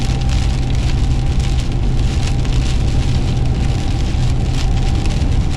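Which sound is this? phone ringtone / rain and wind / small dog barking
rain and wind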